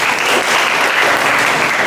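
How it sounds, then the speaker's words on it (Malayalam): An audience at a talk applauds steadily, with dense, continuous clapping filling the whole stretch and no voices over it. "ക്ലാപ്പ് കൊടുത്തേ."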